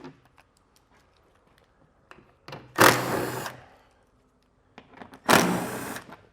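Power tool driving out 8mm head screws along the underbody panel edge of a 2023 Chrysler Pacifica, two separate whirring bursts a couple of seconds apart with light clicks and handling noises between them, close and fairly loud.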